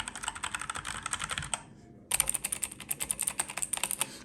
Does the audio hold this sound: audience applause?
no